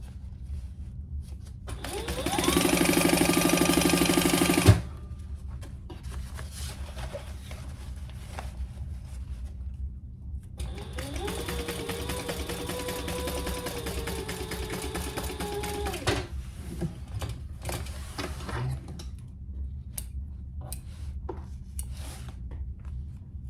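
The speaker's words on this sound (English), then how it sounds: "I'm just going back over those stitches." A sewing machine stitches back over the seams of a Marina unisex crossbody bag in two separate bursts of a few seconds each, a steady whirring motor with quiet handling noise between and after the runs.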